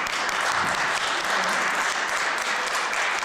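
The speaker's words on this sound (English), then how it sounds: "It's wonderful to sit here and clap" Audience applause at a school board meeting, a steady wash of many hands clapping that fills the whole stretch at an even, fairly loud level with no talk over it.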